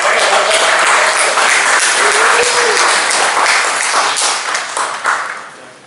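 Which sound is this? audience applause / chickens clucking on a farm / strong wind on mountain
audience applause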